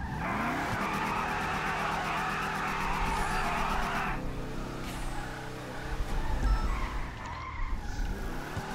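In the video game GTA, a car's tires squeal and skid through spinning 360s over a droning engine, the screech sustained and shifting in pitch, fairly loud and alone.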